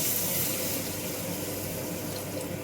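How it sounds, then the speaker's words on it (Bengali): Water poured steadily into a pan of tengra fish curry with fried eggplant, a continuous close splashing and filling rush that holds fairly even throughout, with no talking. "ভেজে রাখা বেগুনটা অ্যাড করে পর্যাপ্ত পরিমাণে জল অ্যাড করছি"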